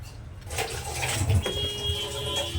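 Running water splashes and trickles steadily while taro leaves are cut and washed in a home kitchen, moderately close, with a faint high tone sounding in the background.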